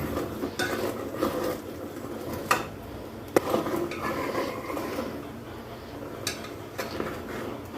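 Ghee being stirred in a pan: a spoon scrapes and taps against the metal in an uneven rhythm over a soft, steady background hiss.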